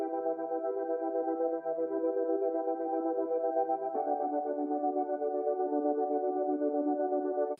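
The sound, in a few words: synth pad from a Serum preset with basic EQ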